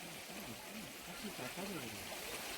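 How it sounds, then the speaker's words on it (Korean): Stream water flowing steadily in a small garden setting, a continuous soft wash and trickle with faint voices murmuring underneath. "물소리 좀 들어볼까요?"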